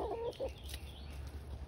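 Chickens in a backyard chicken run, including French Black Copper Marans and Cuckoo Marans, give a couple of short clucks at the start, then only quiet background noise.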